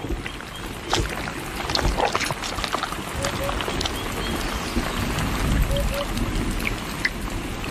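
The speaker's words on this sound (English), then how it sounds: "But the rain was just a fleeting reminder of better times." A rain shower falls over a drought-stricken river, a steady patter of drops on water and ground with scattered louder splashes, while a voice speaks over it.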